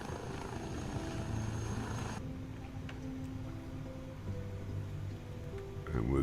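An aircraft passes overhead in a flyby, giving a steady low engine drone. A hissing upper layer drops away partway through, and a brief louder burst comes near the end.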